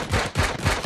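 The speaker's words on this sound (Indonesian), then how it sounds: "itu sebelah kanan itu ada suara tembakan" Bursts of gunfire in the video game Sausage Man, three quick rapid-fire volleys in under a second, loud and close with no talking.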